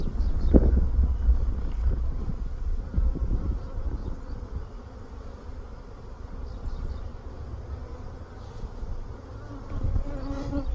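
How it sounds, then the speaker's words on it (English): Dense, continuous buzzing of many honeybees up close in a hive, a steady drone with occasional louder passes and low rumbling from wind. "It's already packed back out with bees."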